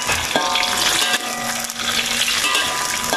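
Chicken pieces fry in hot oil for ayam penyet, a loud continuous sizzle with crackling pops and a brief metallic scrape of stirring, no voices.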